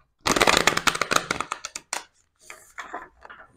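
Tarot deck shuffled up close, a loud dense riffle of rapid card flicks, then a brief pause and a second, softer and shorter shuffle with no talking.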